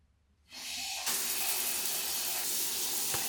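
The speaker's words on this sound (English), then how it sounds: "This rain shower" A rain shower head in a house bathroom turns on, its water swelling from quiet into a loud, steady hiss of spray that keeps running close by.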